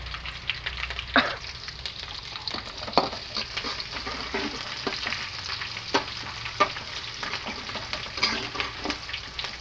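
Mustard seeds and chillies fry in hot oil while rava upma is made, giving a soft steady sizzle with scattered sharp pops and crackles, close and fairly quiet.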